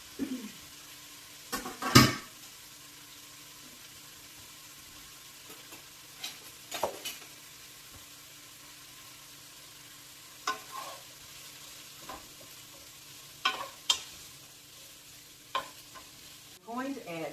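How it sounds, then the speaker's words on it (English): Diced onions, peppers, carrots and celery sizzling in a pot, with soft stirring and occasional spoon scrapes and clinks over a quiet, steady frying hiss. "It's sizzling, and we're going to add our diced vegetables that we prepared."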